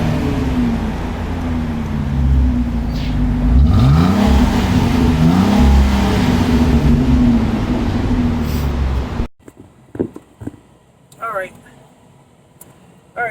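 A Dodge Avenger with a newly fitted custom exhaust revs loudly for about nine seconds, its pitch rising and falling, then cuts off abruptly, leaving a quiet stretch with a few faint sounds.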